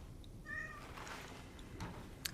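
A cat meowing in the video game Cronos: The New Dawn, one soft, drawn-out meow followed by faint rustling and a small click, quiet against a low ambient hum.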